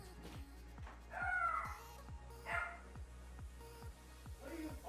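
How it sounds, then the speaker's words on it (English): A dog barks in short bursts mixed with a few whimpers and yips, fairly close, over steady background hum with some talk around it. "He's been barking like crazy."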